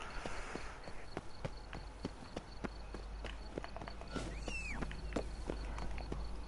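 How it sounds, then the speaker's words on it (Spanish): Horse hooves clip-clop at a walking pace in The Witcher 3: Blood and Wine, quiet regular taps beneath faint ambient game sound, with a brief chirping cry partway through. "Caballito."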